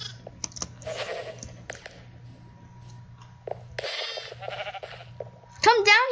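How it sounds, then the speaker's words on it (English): A Minecraft sheep gives a few short bleats amid keyboard clicking and game noise, while a player talks over it. "Man, there's a new sheep."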